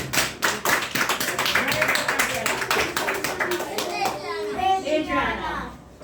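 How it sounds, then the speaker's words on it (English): A classroom of students claps together, a dense burst of close applause lasting several seconds before it thins out as children's voices take over. "Everybody give her a round of applause."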